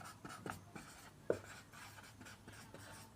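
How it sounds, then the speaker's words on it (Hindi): Handwriting with a pen on paper, close up: a run of soft scratchy strokes with one sharper tap, steady and quiet under a faint background hum. "तो स्नेक बोट रेस लिख देता हूँ।"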